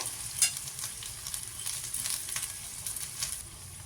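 Chopped tomato stirred with spices in a frying pan for a vegetarian bottle gourd greens and poppy seed dish, giving a steady close sizzle with scraping spoon strokes and a sharp clink near the start.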